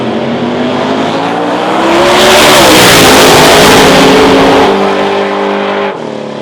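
A supercharged Chevrolet Camaro engine revs loudly and close at a street race event in Sweden, a sustained roar that swells in the middle and then drops off near the end.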